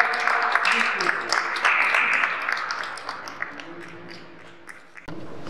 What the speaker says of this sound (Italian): vorrei fare un grande applauso a Don Giustino Magni